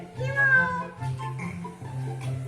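A pet cat meows repeatedly at home, three drawn-out tonal cries in steady succession, close and fairly loud, with no one talking over them.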